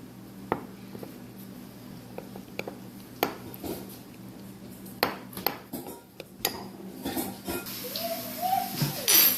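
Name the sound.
mixing sourdough starter in a jar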